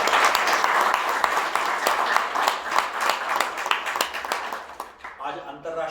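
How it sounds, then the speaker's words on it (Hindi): An audience claps for the faculty members and technical team at a gathering, with dense sustained applause that thins and fades toward the end. "उन सबको धन्यवाद के नाते हम सबको ताली बजाना चाहिए।"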